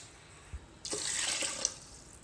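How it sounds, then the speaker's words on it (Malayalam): After a brief quiet knock, water gushes in a steady pour for about a second and a half, splashing close by into a rice cooker from a steel glass. "4 സ്റ്റീൽ ഗ്ലാസ് വെള്ളം അതിനോടൊപ്പം ഒഴിക്കാം."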